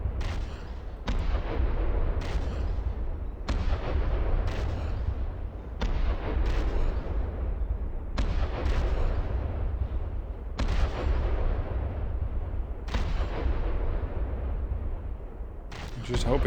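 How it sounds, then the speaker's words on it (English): Heavy dreadnought main guns in the naval combat game From The Depths fire in repeated booming salvos roughly every two seconds, each blast loud and close over a constant low rumble of battle. "Now the main gun is also opening up again"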